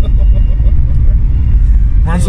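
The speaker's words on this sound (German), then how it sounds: "Muss ja Gas geben." A car accelerates hard through a sharp bend at night, its engine giving a steady, heavy low rumble close by, with faint voices near the end.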